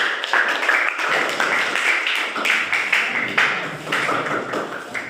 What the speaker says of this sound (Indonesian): sekali lagi tepuk tangan, silakan duduk